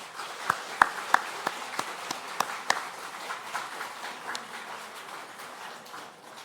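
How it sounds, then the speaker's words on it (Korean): A church congregation marking the church's 49th anniversary at a Sunday service applauds, with a few sharp claps standing out at first before settling into a steady, fairly quiet patter that fades gradually. "서로를 위해 우리 박수 한번 치겠습니다"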